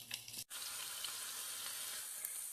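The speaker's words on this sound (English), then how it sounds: "You get that wonderful sizzle from it all" Peppers and onions frying in hot vegetable oil make a steady, quiet, broadband sizzle that runs on without a break after a short dip near the start.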